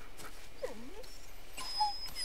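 A dog whimpers in the Blair Witch video game, a faint rising and falling whine over quiet ambient game noise, with a few distant high chirps.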